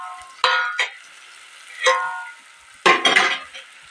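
Turmeric, chili and coriander powders are stirred in a frying pan, giving three or four short, close bursts of scraping sizzle separated by quiet gaps.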